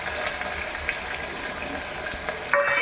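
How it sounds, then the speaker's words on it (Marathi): Curry leaves, green chilli and chopped onion hit hot oil with cumin and mustard seeds for a quick khichdi, giving a loud, steady sizzle and crackle that runs throughout, close up, with a brief clatter near the end. "त्याच्यानंतर कढीपत्ता टाक त्याच्यानंतर मिरची टाका नंतर कांदा टाका"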